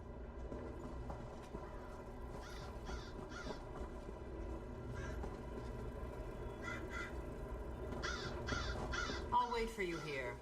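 Crows caw in The Elder Scrolls Online, sharp repeated calls that come in short bursts over a constant low rumbling background, growing busier and louder toward the end.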